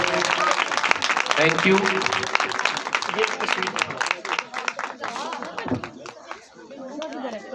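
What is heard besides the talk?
audience applause for children's Christmas drama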